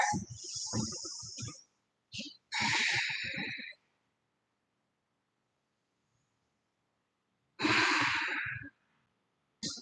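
Slow, deep yoga breaths during a held pose come as loud, close airy exhales and inhales in separate bursts, each followed by stretches of near silence.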